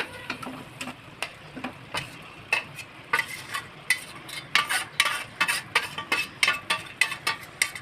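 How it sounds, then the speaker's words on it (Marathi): Chicken pieces go into a tomato masala and are fried and stirred in a pan, a spoon scraping in quick rhythmic strokes over a soft sizzle, close and clear, with no voices. "आता हे चिकन आहे ना, ते आम्ही घालून घेते."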